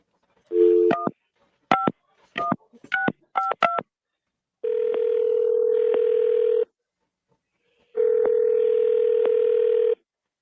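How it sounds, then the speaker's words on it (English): Touch-tone keypad dialing on a telephone, a rapid series of short beeps followed by two long, steady ringback tones with a gap between them, clear and close with no talking. "I'm going to dial him right now."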